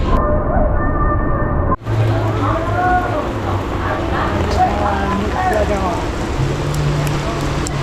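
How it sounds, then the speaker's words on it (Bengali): Heavy rain pours steadily on a train arriving at Goghat station on the Howrah line, a dense continuous wash that sits under faint background voices throughout. "কি লেভেলের বৃষ্টি পড়ছে আজ বাপরে বাপ"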